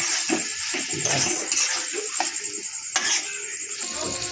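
Futka mushrooms from Jharkhand's forests frying in a pan get stirred, giving repeated scraping strokes and shuffles over a hissing sizzle, close and fairly loud.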